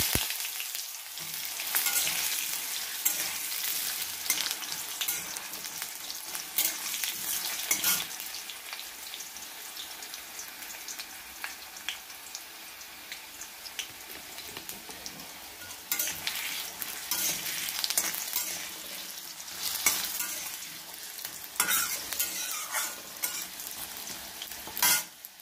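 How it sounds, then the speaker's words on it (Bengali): Potatoes fry in a pan with a paste of tomato, garlic, green chili and ginger, giving a steady close sizzle broken by scraping stirs throughout. "একই সঙ্গে আলু এবং মশলাটা একই সঙ্গে ভাজা হবে"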